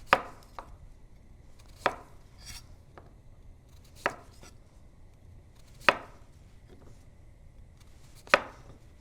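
A knife chops white sweet potatoes into inch-thick rounds on a cutting board, six sharp, close thunks with softer taps between them at an uneven pace, in a quiet kitchen with no talk.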